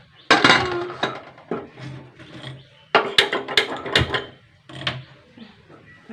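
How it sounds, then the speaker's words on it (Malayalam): A metal pressure cooker holding lentils is closed with its lid, producing a series of sharp clanks, knocks and clinks close by, separated by short quiet gaps. "കുക്കറിൽ അടയ്ക്കട്ടെ കേട്ടോ"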